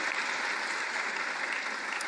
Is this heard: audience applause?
yes